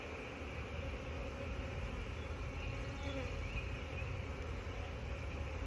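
Honey bees buzz around a hive in a dense, continuous hum, with many insects droning close by at a steady low level.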